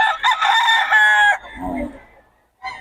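A rooster crows loudly and close by at a market, one long crow followed by lower clucking and a short final call starting as the clip ends.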